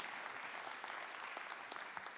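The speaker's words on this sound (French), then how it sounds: "On vous applaudit." Applause from a conference audience at a national agricultural colloquium, a soft, even rattle of many hands heard from a distance, faint and without any voices.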